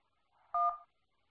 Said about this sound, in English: Please press any digit on your phone